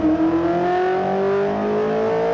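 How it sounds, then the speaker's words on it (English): A 1978 Walter Wolf Formula 1 car, once driven by Jody Scheckter and rated at 450 horsepower, revs close by with a loud, buzzing engine note whose pitch climbs steadily as it accelerates. "This is the 1978 Walter Wolf F1 car"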